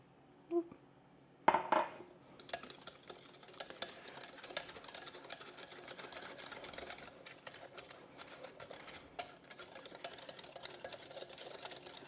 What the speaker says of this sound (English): we're going to whisk our eggs, and then our sugar